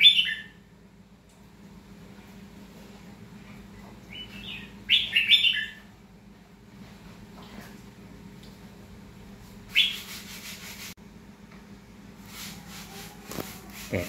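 A red-whiskered bulbul sings short, bright whistled and chirping phrases at scattered intervals, fairly close, over a low steady background hum with no talk.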